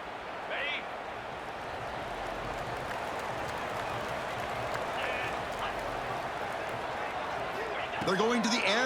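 Steady stadium crowd roar from a video game college football match between TCU and Cincinnati, a dense continuous wash of noise with faint commentary-like voices and a louder burst near the end.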